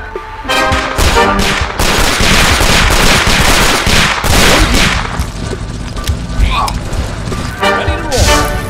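Heavy, rapid bursts of automatic gunfire and explosions in the video game Signal Ops, loud and close, with a busy layer of game sound effects behind.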